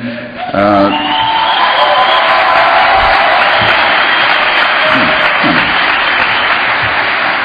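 A comedy show audience in San Diego bursts into loud applause with cheers and whoops, a sustained roar of clapping that starts abruptly and holds steady, with a voice briefly audible at the start.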